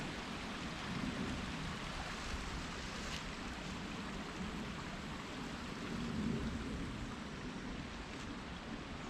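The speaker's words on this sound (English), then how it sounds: "Oh, there's a mini waterfall" A mini waterfall pours in a steady, broadband rush of falling water, continuous and unbroken at a moderate distance, with no voices over it.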